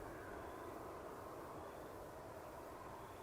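A CargoJet aircraft moves at Edmonton International Airport on a summer evening, a steady, continuous broadband engine roar with a low rumble that holds at a constant level throughout, heard from a distance with no talking.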